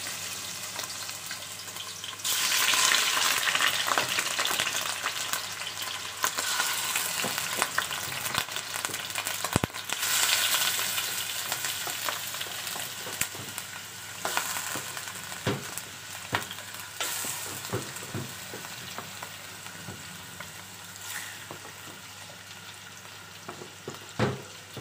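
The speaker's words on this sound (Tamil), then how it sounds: "மட்டனை சேர்த்துக்கலாம் இந்த எண்ணெயில்." Mutton pieces sizzle and fry in hot oil in a pan, a steady loud crackle that jumps up as the meat goes in, with occasional stirring scrapes and clinks over roughly twenty-five seconds, no voices.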